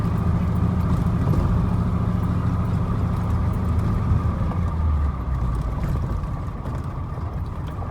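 A loud, steady vehicle engine drone drives along the road toward a sugar factory in autumn, hauling sugar beet, with continuous low rumble and road noise that eases slightly toward the end.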